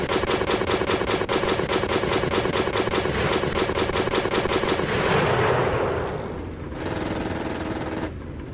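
Rapid, sustained machine-gun fire from tail gunners in Stormworks, a dense rattling stream of shots that breaks off into a few scattered bursts and a fading rumble.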